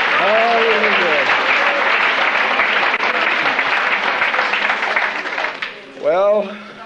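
A church congregation applauds a sermon with loud, sustained clapping for several seconds that tapers off, then a voice speaks over the fading applause.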